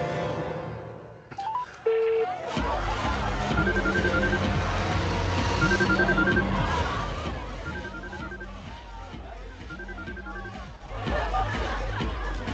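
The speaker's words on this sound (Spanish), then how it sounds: "Voy a llamar a su celular." Keypad tones of a phone dialing a cellphone number, short beeping tones in groups at a steady pace over a busy background of crowd chatter and babble.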